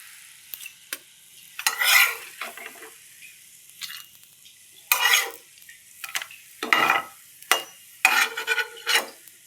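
The remaining catla fish omelette pieces frying in a pan, with scraping and stirring strokes in irregular bursts over a soft sizzle, close by and with no talk.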